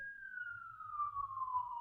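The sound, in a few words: ambulance siren passing outside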